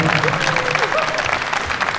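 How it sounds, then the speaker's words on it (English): Crowd applause at a hometown Providence, Rhode Island celebration day for Houston Astros player Jeremy Peña, a short, loud burst of clapping with a voice talking over it. "Big round of applause."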